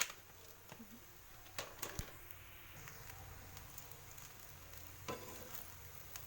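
Packet masala mixed into a pan fries on a high flame, giving a faint, continuous sizzle broken by occasional scraping and stirring clicks.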